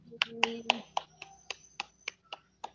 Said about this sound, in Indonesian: Tepuk tangan dulu, beri aplaus dulu.